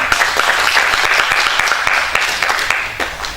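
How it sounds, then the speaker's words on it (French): Audience applause at an African identity summit at Mohamed V University, honouring African women: a dense, steady wash of many hands clapping, loud and sustained throughout. "S'il vous plaît, je veux que vous applaudissiez pour les femmes africaines."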